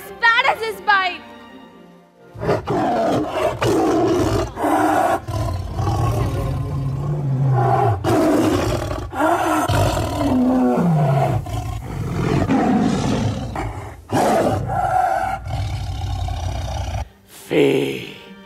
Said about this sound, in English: Sher Khan's roar gave me such a fright.